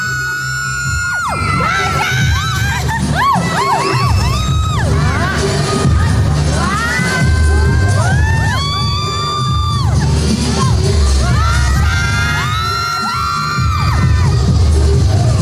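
A packed crowd at a Prince & Princess pageant screams, whoops and cheers loudly without a break, with high-pitched shrieks rising in repeated waves over the constant roar.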